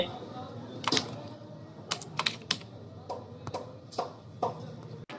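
Someone types on a computer keyboard at a desk, with quiet, irregular clicks and a few sharper keystrokes over a soft background hum.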